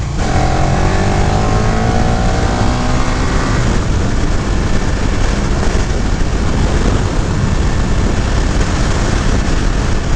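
A loud 2018 KTM 1290 Super Duke GT motorcycle engine winds up through rising revs as it accelerates, with heavy rushing wind noise.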